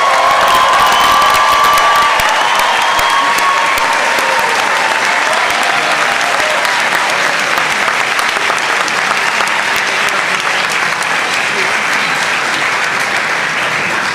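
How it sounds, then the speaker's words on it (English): Sustained audience applause for graduates and their families at a university doctoral hooding ceremony, dense and steady throughout with scattered cheers and whoops rising from a large crowd. "How about giving our graduates and families some applause?"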